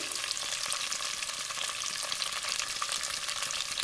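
Lamb pieces with minced ginger and garlic sizzle steadily in a stew pan, giving a close, dense, crackling hiss that runs evenly throughout without talk.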